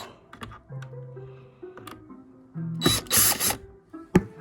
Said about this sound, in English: And now I gotta get the screws out.